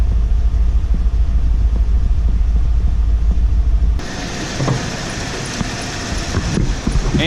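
A 1995 Ford F150 4x4 pickup idles roughly with its engine shaking: a steady low rumble for about four seconds, then a brighter, noisier stretch with small knocks as the sound shifts.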